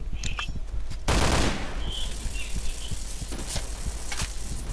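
Rapid gunfire from the Point Blank shooting game in a library training map, sharp repeated shots with a dense burst around one second, then scattered reports through the rest.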